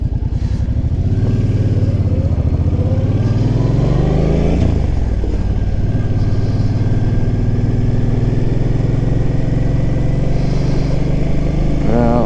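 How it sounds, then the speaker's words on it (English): Motorcycle engine rumbling steadily and loud throughout, with a low throaty drone and shifting pitch as it revs slightly, heard close up on a ride along a boulevard. "When it's quiet and you can actually hear the bike, it's just like, feels so, sounds pretty good."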